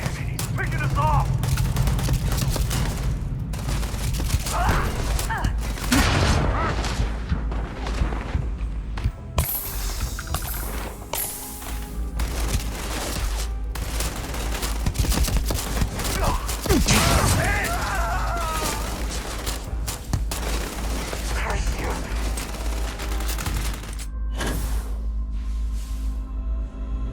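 Gunfire crackles through a firefight in the game Starfield, with irregular bursts of shots and crashes scattered over nearly half a minute while voices shout over the action.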